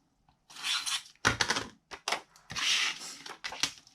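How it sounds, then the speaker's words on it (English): A tape runner rolls tape onto a paper note card in several crackly, tearing bursts of varying length, close and fairly loud, separated by brief pauses. "So I am going to use my tape runner, place tape on this"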